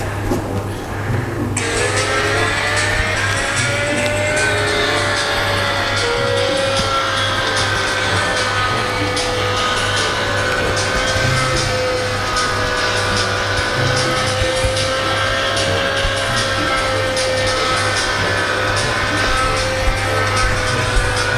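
Motorbike racing video game engine drone, a steady continuous whine with gradually shifting pitch running the whole clip at close, even loudness, with a low hum underneath and no talking.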